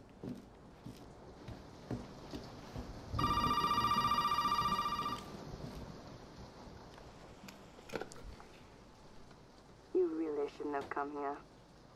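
Telephone ringing in the survival horror game Resident Evil 7, played in VR: a loud electronic bell rings steadily for about two seconds amid ambient game noise and footsteps, followed by a short warbling tone.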